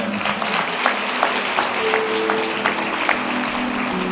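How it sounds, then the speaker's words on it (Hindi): A church congregation at a Sunday meeting claps together on request, a steady crowd patter with a few sharper distinct claps and a faint sustained tone beneath, no clear talk on top. "तालियां बजा दो एक बार।"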